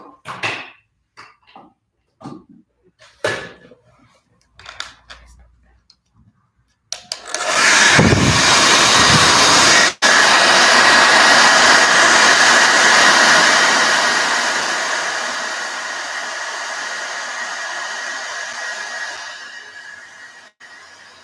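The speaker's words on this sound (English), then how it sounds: "I'm going to use the hair dryer." A few seconds of quiet, scattered knocks, then a hair dryer roars on to dry paint on painted leaves, loud and steady, blowing continuously for about fourteen seconds before easing slightly toward the end.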